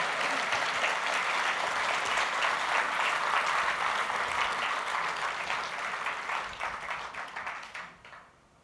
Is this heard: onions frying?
no